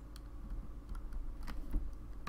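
Typing on a computer keyboard while writing code for a Node.js Discord bot, a quick irregular run of close, crisp key clicks with no voices.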